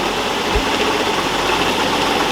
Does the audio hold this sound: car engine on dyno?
yes